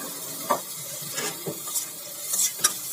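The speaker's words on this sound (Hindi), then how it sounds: "इस तरह भूनने के बाद इसमें थोड़ा सा डाल देंगे हम ग्रीन चिल्ली।" Green chillies fry in a pan with a soft, continuous sizzle, broken by a few light scrapes and clinks of a utensil stirring, no voices.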